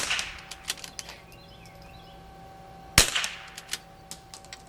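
A single sharp gunshot crack from a CZ 457 rifle in an MPA Vanquish chassis rings out outdoors amid quieter distant pops and clicks, fairly faint overall with one clear loud report.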